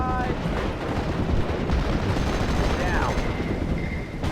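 Gunfire and explosions from the Steel Division: Normandy 44 WWII strategy game, a dense, continuous rumble of shots and blasts with a brief whistling tone, steady and loud throughout.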